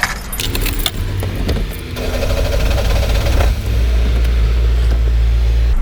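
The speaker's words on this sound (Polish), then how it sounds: "Odpalę silnik." A car engine starts with a jangle of keys and a short cranking, then settles into a steady, close idle hum that holds to the end before towing a camper trailer.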